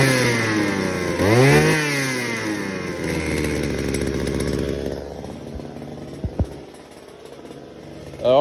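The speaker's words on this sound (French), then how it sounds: "Le moteur tourne." A restored brushcutter two-stroke engine runs close by, buzzing loudly and revving up and down with rising and falling pitch, then dropping toward idle with a few sharp knocks.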